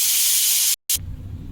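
Pressure cooker releasing steam through its whistle while tender jackfruit cooks with salt and turmeric, a loud close hiss broken by a brief gap, then cutting off into quiet.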